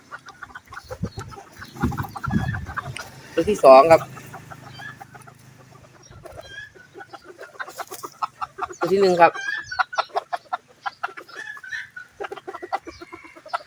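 Several chickens, young birds from a Lueang Hang Dang fighting-cock line, cluck and squawk close by in loud bursts, with someone talking in Thai between and over the calls.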